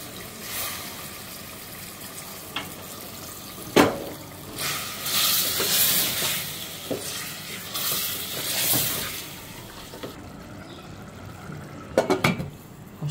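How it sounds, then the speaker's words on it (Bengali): Rohu fish head and dal sautéing together for Bengali muri ghonto, a soft continuous sizzle broken by irregular stirring scrapes and spoon knocks against the pan, close by with no talk. "দিয়ে একসাথে ভালো করে কষিয়ে নেব"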